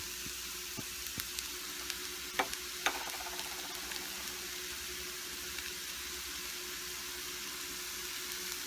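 French beans frying in a pan with sesame seed powder, a steady broadband sizzle throughout, broken by a few sharp clicks and a brief clatter near the middle.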